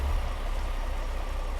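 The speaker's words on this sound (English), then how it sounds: "Plus, it's raining." Steady rain patters in American Truck Simulator, a soft continuous hiss over a low engine rumble, with no voices.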